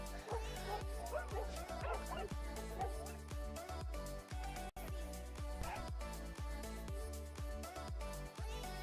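Corgis bark and yip at a crowded race at a velodrome, their sharp repeated barks rising from a dense, busy wall of crowd and background music that runs the whole time.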